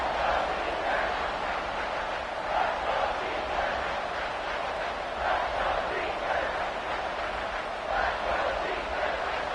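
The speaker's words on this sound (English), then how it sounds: "Crowd getting this defense whipped up on third down." A football stadium crowd at an NCAA game roars steadily through a third-down defensive stand, with a dense, sustained cheer that swells and ebbs in waves, and a commentator's voice is partly audible over it.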